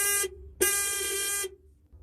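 Two electronic horn honks from a 2022 Euler HiLoad electric cargo vehicle, a short beep followed by a longer held blast, loud and close.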